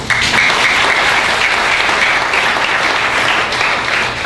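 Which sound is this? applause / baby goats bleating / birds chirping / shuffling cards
applause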